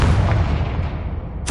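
A Confringo fire-blast spell explodes in Hogwarts Legacy as a loud, rumbling boom that fills the whole moment and slowly decays, then a sharp new burst cuts in at the end.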